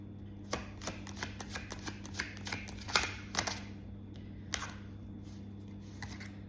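Tarot cards are shuffled and drawn by hand, soft papery riffles and sharp clicks coming in quick irregular bursts over a faint steady hum, close and quiet with no talk.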